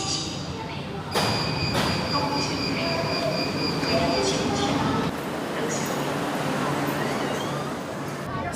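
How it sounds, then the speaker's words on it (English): A Xiamen Metro Line 1 train runs over the sea crossing, heard from inside the car as a steady rumble with tonal whines, a clunk near the start and continuous rolling noise throughout. "So right now we are on Metro Line 1, traversing the sea"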